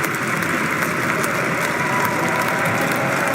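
Large crowd applauding during Donald Trump's inauguration address, a continuous wash of many hands clapping at even loudness from start to finish, with no speech over it.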